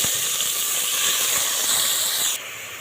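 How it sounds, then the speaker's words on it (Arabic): Pieces of beef tripe hit a very hot pan, giving a loud, steady broadband sizzle and hiss that carries on close up for a few seconds and then drops a little in level near the end. "المحله سخنت جدا جدا، هنزل بقطع من الكرشه"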